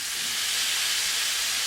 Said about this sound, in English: We're going to stir that through well and let it fry off for a few minutes.